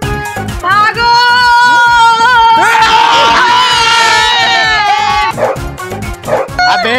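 A dog chasing people barks and yips loudly and repeatedly, with whimpering cries mixed in over a dense, busy background and voices.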